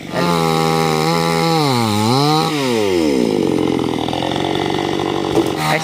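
Trees being cut down with a chainsaw: a loud, nearby engine whines and revs up and down, its pitch swooping as it works, continuous for several seconds.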